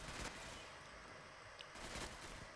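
Rapid SMG fire in the video game Ghost Recon Phantoms, a dense continuous rattle of shots with a few stronger bursts, loud and unbroken with no talk over it.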